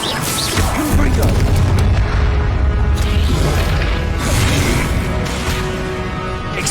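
Confringo fire blast spell explosion in Hogwarts Legacy on PS5: heavy booming crashes and whooshing impacts over several seconds of chaotic combat, loud and close, with shouted voices mixed in.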